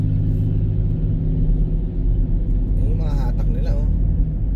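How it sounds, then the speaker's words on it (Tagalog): A truck's heavy engine rumbles loudly and steadily nearby on a snowy road in Alberta, Canada, with a voice speaking briefly over the low drone. "Yung truck, ang lakas oh."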